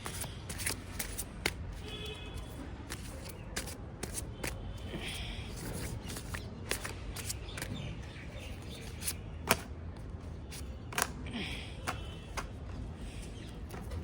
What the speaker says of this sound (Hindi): मैं आज सारे डेक से पहले दो दो कार्ड्स ले लेते हैं